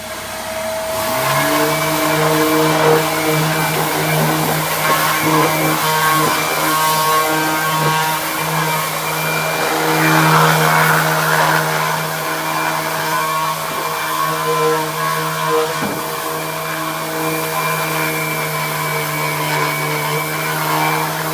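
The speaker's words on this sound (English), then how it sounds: "Rotary sander again, this time with a interface disc, so it can go in." Rotary sander fitted with an interface pad working along wooden deck edges, a loud sustained whine with steady tonal hum that wavers slightly as pressure shifts, running continuously.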